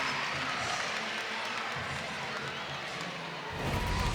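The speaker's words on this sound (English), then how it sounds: "And the crowd goes wild." Arena crowd at a college gymnastics meet, Mizzou at Auburn, roars after a stuck double layout dismount: a dense, steady wall of cheering and applause that swells louder near the end, with no talk over it.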